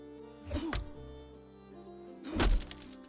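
Two separate axe strikes on a tree in Runescape: Dragonwilds, each a sharp woody thunk with a crackling burst, set apart by about two seconds over a quiet, steady musical background.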